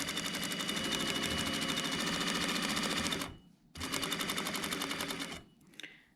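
A sewing machine stitches the lining of a jacket pocket and back-tacks at the end. Its rapid, steady run is close and loud, breaks off for a moment, then resumes before stopping near the end.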